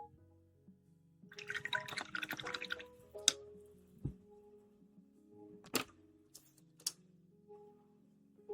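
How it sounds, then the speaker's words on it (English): A brush dabs and swirls water on a wet palette during miniature painting, with a brief burst of wet brushing followed by a few scattered light taps and drips, close and quiet. "add some water"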